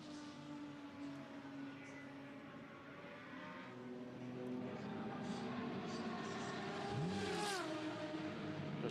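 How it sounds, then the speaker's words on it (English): A Maserati race car in an endurance race at Spa circulates under steady commentary, its engine a continuous drone that swells slightly as it comes around the track, with a brief pitch sweep near the end. "there is the Maserati coming around now, so that's a done deal"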